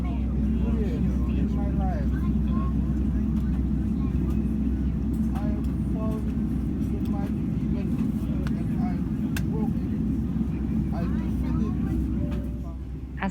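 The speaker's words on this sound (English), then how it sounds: "As we're taxiing to the runway" Singapore Airlines airliner taxiing toward the runway, heard from inside the cabin as a steady, loud low engine and rolling rumble, with a voice speaking over it throughout.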